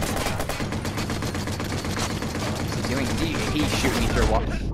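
Rapid gunfire from the open-world game Watch Dogs on PS4, a dense run of sharp shots rattling continuously for several seconds over a busy mix, with a voice talking partway through.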